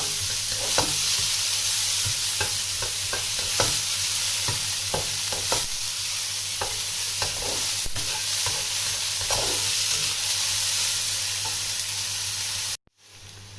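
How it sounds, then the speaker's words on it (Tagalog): Onion and garlic sauté in a pan with a loud, steady sizzle of frying, broken by repeated clicks and scrapes of stirring, with no voices until the sound stops abruptly at the end. "Ayan lang po natin mag-brown ang ating onion. At ang ating garlic, ayan, at the same time."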